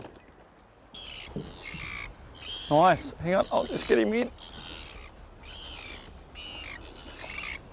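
Seagulls call over Sydney Harbour during a squid-fishing outing, with repeated sharp, high squawks and cries scattered through the clip, mostly alone. Someone talks briefly in the middle.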